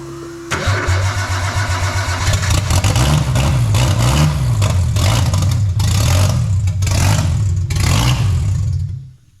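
A Nissan S14's RB25DET engine cranks and fires, then idles loud and rough through an open exhaust, with several sharp revs blipping up before it cuts off.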